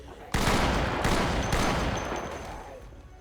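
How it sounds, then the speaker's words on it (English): Gunfire in the zombie game Project Zomboid during a prison break: a dense burst of shots starting abruptly and rolling on continuously, loud and close, tailing off slowly toward the end. "I'm about to start shooting."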